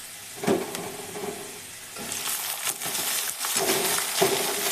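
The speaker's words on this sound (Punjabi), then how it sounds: "ਇਹਦੇ ਵਿੱਚ ਹੁਣ ਆਪਾਂ ਪਿਆਜ਼ ਪਾ ਦਵਾਂਗੇ" Onions frying in a pan with ginger and garlic for a dal, a steady broadband sizzle with a few sharper clinks and stirring scrapes, moderately close and without talk.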